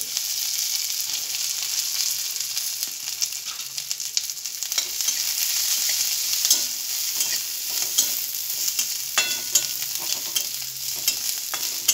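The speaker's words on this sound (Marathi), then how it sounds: "थोडं आणखीन तेल घालूया आणि लसूण आणि अद्रक भाजून घेऊ।" Garlic and ginger frying in oil, stirred steadily over about twelve seconds: a continuous bright sizzle with irregular scraping clicks from the stirring, close and fairly loud, with no voices.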